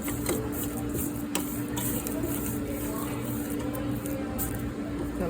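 Electric stand mixer with a paddle attachment mixing chocolate chip cookie dough, a steady mechanical whir with a faint ticking rhythm running throughout, close and continuous with no voice over it.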